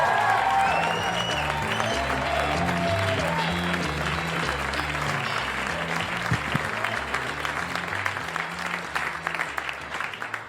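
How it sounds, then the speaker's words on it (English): Comedy club audience applauding a comedian's introduction, steady loud clapping with crowd noise over music, gradually thinning toward the end. "Let's give him a big rousing round of applause for Orlando Baxter"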